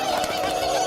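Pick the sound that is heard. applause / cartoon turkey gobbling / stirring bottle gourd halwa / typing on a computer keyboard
cartoon turkey gobbling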